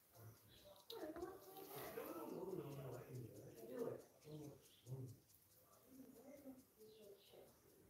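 Birds chirp and doves coo softly in the background while a person talks quietly over them.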